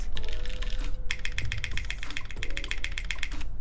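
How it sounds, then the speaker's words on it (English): Rapid mechanical keystrokes on a plateless XENO mechanical keyboard, with steady bright clacks of typing and a few deeper, fuller spacebar thocks standing out, close and clear with no talk. "I think the spacebar sounds really nice on this."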